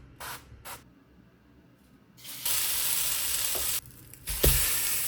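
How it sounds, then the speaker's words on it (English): French toast made from bread soaked in an egg mixture hits a hot pan after a few soft clatters, then a loud, steady broadband sizzle sets in and holds, with a brief clink near the end. "It's time to fry our French toast"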